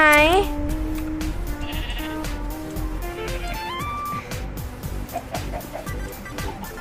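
Sheep bleat in a survival video game, several short calls near the start, with other animal sounds and people speaking throughout.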